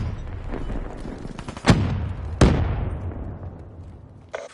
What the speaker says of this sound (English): Grenade, get cover!